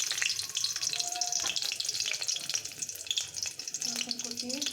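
Chopped garlic goes into hot oil and fries with a crackling sizzle and light stirring throughout, close and fairly soft.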